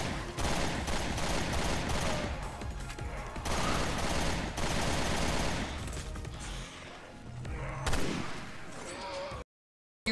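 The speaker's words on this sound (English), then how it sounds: "The assault rifle is still like the best thing I have." Sustained rapid assault rifle fire in Resident Evil Revelations 2 Raid Mode, dense continuous bursts with brief gaps, loud and close, cutting off abruptly into silence near the end.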